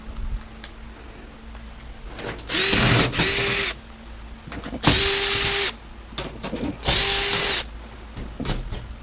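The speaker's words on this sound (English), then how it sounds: "I'll grind them off. I'm going to test out the grinder." Power grinder cutting parts off a washer/dryer combo, three loud whining bursts of a few seconds each, separated by clanks and handling noises, with no talking.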